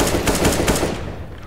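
Rapid automatic gunfire in Counter-Strike: Global Offensive, a quick burst of about six loud, sharp shots in a tight rhythm, followed by a short fading echo.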